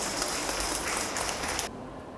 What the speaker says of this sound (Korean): 재밌는 분들이 박수 한번 쳐주세요.